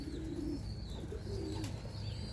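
Racing pigeons coo inside a loft, with low, rolling coos repeating a few times close by over a steady background hum and a few faint higher chirps.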